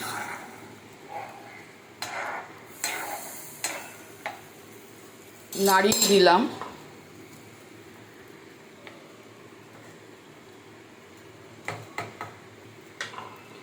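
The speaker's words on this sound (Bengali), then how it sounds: "এবার আমি জলটা দিয়ে দিচ্ছি। নাড়িয়ে দিলাম।" Water poured into hot oil in a pan bursts into a loud, short hiss and sputter, surrounded by scattered clinks and scrapes of stirring, close by with no voices.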